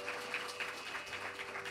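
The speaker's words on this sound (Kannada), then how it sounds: "ಒಂದು ದೊಡ್ಡ ಚಪ್ಪಾಳೆ." An audience at a Torave Ramayana recital breaks into sustained applause, steady dense clapping from many hands heard at a moderate distance with no talk over it.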